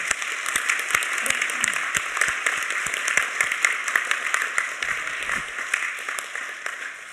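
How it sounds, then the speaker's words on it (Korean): A church congregation claps in blessing at an ordination service during an anniversary worship, with steady, fairly close applause and distinct individual claps standing out in an even rhythm throughout. "축복의 박수 하겠습니다."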